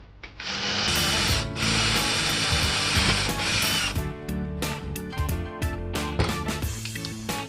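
A hand-held drill boring through wood with a 7/16 bit, a loud steady whine and grind that runs for several seconds, then breaks into stuttering bursts as the bit bites and releases.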